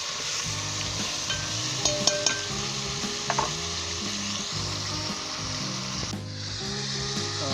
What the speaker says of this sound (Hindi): और अच्छे तरीके से डीप रोस्ट जब तक ये नहीं हो जाता अच्छे तरीके से मैं भूनूंगा इसके अंदर